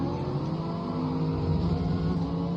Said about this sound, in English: Got a queue of cars on my outside.